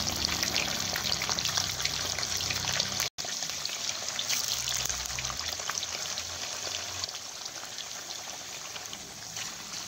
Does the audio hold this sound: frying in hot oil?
yes